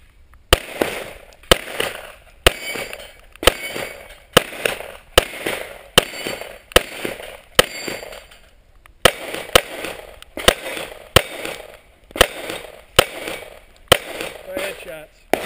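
Rapid series of sharp gunshots at a plate rack during a 3-gun competition, roughly fifteen loud cracks in steady rhythm with a brief pause midway, each shot ringing out closely with no talk between.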